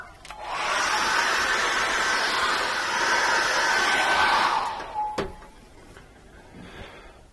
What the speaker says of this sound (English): I'm going to dry this off with a hairdryer.